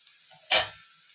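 Turmeric dropped into hot oil while cooking kolambi masala, a sudden short burst of sizzling that flares loud and then fades over a moment, close up against a quiet background.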